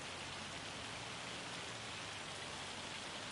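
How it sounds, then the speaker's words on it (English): Hail pelts down steadily in Farming Simulator 25, a dense, even hiss of pellets striking surfaces, with no talking. "Oh, yeah, it's hailing."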